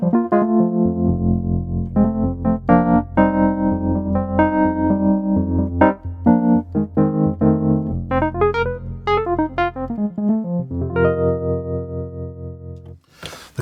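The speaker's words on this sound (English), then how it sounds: "We have a Wurlitzer in here." A Hammond SK Pro keyboard plays its Wurlitzer electric piano voice: bright, slightly gritty chords and runs in a continuous phrase, close and fairly loud, with no talking.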